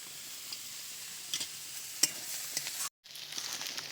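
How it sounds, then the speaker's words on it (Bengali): Bottle gourd pieces being stirred and fried in a pan, giving a steady soft sizzle with scattered light scraping clicks, close by and alone, broken by a brief moment of silence near the end. "বেশ কিছুক্ষণ ধরে লাউটা নেড়ে চেড়ে ভেজে নিয়েছি।"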